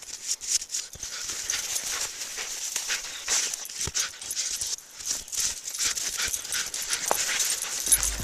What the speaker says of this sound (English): Search! Search, Gus! Search!